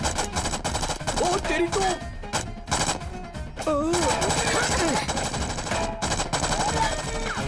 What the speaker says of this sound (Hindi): चलो गोली चलाओ भाई, गोली चलाओ।